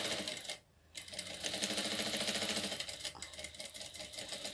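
Sewing machine stitching a cloth rag doll along a marked line, a steady rapid mechanical whir with a brief pause early on, close and fairly loud with no talk.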